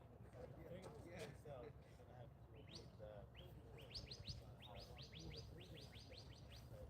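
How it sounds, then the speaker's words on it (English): Birds chirp outdoors in a quick series of high, rising tweets, clearest in a rapid run near the end, heard over steady low background rumble and talk. "Hear the bird?"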